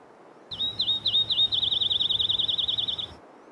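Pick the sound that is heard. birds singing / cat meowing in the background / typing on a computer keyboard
birds singing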